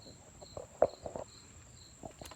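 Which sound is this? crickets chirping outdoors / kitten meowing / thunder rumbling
crickets chirping outdoors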